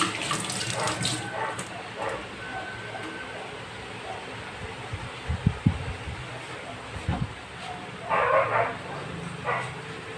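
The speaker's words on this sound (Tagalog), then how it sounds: "Lagyan po natin ng konting tubig para hindi po siya masyadong tuyo." Water running from a kitchen tap while cooking, a steady broadband rush filling most of the clip, with a few thumps and brief knocks partway through and short louder bursts near the end.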